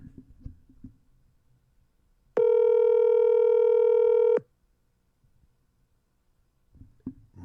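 An outgoing phone call gives a single steady electronic tone, loud and clear, lasting about two seconds between stretches of near silence, with faint voices and movement at the edges.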